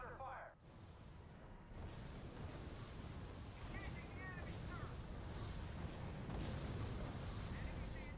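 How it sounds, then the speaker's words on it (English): Mortar shells exploding in the wartime strategy game R.U.S.E, heavy rumbling blasts and low booming impacts rolling continuously under game noise, fairly loud and dense throughout. "So we keep having mortars lobbed at us."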